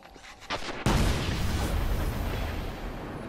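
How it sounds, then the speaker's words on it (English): Close, heavy shotgun blast in the sci-fi shooter Destiny during a Control match in the Rusted Lands map: a sudden loud boom with a long, dense rumbling tail that fills the rest of the moment, preceded by a couple of fainter shots. "He keep hitting with that shotgun"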